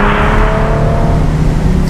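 A Mercedes SL350 engine pulls hard under acceleration, a steady, loud, close droning roar with a faint whir above it, continuous for the whole two seconds with no talking.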